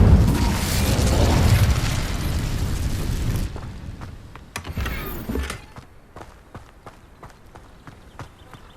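Incendio fire spell cast in Hogwarts Legacy: a loud roaring, crackling burst of flame for about three seconds, then a short whooshing flare, followed by quieter scattered clicks and ticks.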